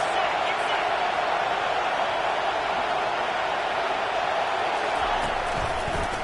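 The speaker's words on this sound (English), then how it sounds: "This crowd trying to make life miserable for this offense." College football stadium crowd at Virginia Tech versus Alabama, a dense, steady roar that holds loud and unbroken, with a commentator talking over it.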